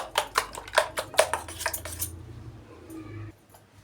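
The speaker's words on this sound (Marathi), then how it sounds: "हे सर्व मिश्रण व्यवस्थित अशा प्रकारे फेटून घ्यायचे आहे." Egg mixture with finely chopped coriander and masala whisked in a bowl for anda bread: brisk, rhythmic metallic clinks against the dish for about two seconds, then the beating stops and a faint clatter follows.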